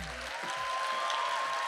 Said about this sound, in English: Keep that applaud going